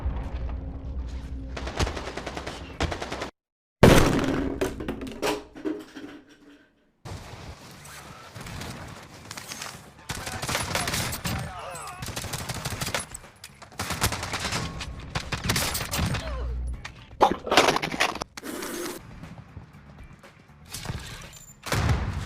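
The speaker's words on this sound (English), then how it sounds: "He has an automatic weapon!" Automatic weapon fire in a video game, loud bursts of rapid shots that come in clusters with brief gaps between them, close and dominant, with a few heavy thumps mixed in.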